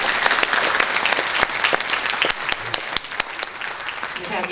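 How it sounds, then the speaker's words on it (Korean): An audience at a formal vision proclamation ceremony for a national leisure movement organization applauds, a dense, steady wash of many hands clapping up close that holds for several seconds and eases slightly toward the end. "여러분 큰 박수 보내주시기 바랍니다."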